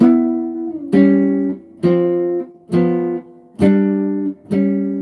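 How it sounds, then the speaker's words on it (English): A guitar plays two-note shell voicings over a bass line on the bottom in a chord melody style, six sustained chord strikes in a steady, unhurried rhythm, clear and close with no talking. "I'm just playing 2 notes actually with the bass line on the bottom."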